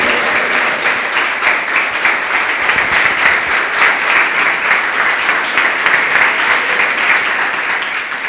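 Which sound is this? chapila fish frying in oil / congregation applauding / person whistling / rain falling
congregation applauding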